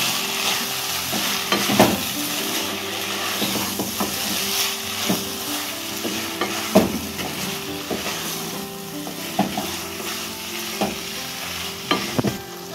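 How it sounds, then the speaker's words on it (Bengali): Kolhapuri chicken masala sautés in a pan with turmeric and salt, a steady sizzle broken by repeated scraping stirs of the spoon against the pan all the way through, with no talking. "এরপর আমরা এর মধ্যে দেবো হলুদ, নুন, দিয়ে ভালো করে আবার আমরা এটিকে কষিয়ে রান্না করে নেব।"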